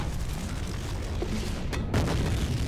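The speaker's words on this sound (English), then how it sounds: "Because those explosions sound enormous." Enormous explosions in the video game F.E.A.R., a sustained low rumble broken by two sharp blasts near the end, the second louder and heavier, without speech.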